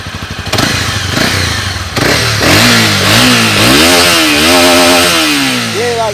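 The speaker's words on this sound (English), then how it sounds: "I'm just gonna show you guys the sound of the exhaust." A Honda CB300R motorcycle with a slip-on exhaust revs up close, its loud, raspy engine note climbing and falling in a string of quick throttle blips.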